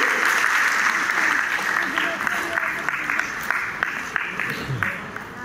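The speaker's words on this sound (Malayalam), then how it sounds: "എല്ലാവരും ഒന്ന് ക്ലാപ്പ് ചെയ്തേ. പോരാ, നല്ല കൈയടി." Sustained applause from a wedding audience as the bride's mother is welcomed onto the stage, a steady dense patter of clapping lasting throughout, with a voice talking over it.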